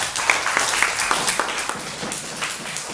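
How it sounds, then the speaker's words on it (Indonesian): Students in a classroom guidance and counseling discussion clap for a group presentation, a moderate, slightly uneven round of applause lasting a few seconds. "Tepuk tangan untuk sajiannya."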